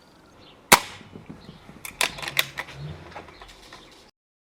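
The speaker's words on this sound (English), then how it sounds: "I'm now going to test the power by firing another 10 of those SMK BS-45 pellets over the chronograph" A Baikal IZH-38 air rifle fires an SMK BS-45 pellet over a chronograph, giving one sharp, loud report followed by quieter mechanical clicks and faint handling noises.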